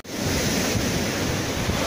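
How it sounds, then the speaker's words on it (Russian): Sea waves wash onto a small, broken-up stretch of Flamingo beach at Lazarevskoye, a loud, steady roar of surf with wind buffeting the microphone and no talking. "Круто насчет волн."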